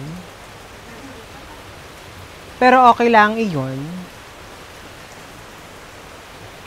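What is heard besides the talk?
rain falling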